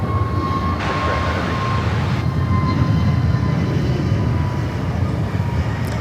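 A United airliner lands on runway 16 right at Sydney Airport, giving a steady, loud jet roar with a deep rumble that holds throughout and has no talk over it.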